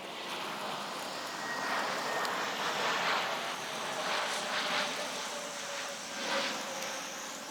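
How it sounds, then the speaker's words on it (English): Aeroplanes pass overhead above a garden allotment, a steady, moderately distant broadband roar that swells and eases over several seconds with no talking. "The aeroplanes are coming in thick and fast and going out as well."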